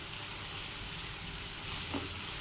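Chopped onions and curry leaves frying in a pan, a steady soft sizzle throughout with a slight swell near the end, no talking.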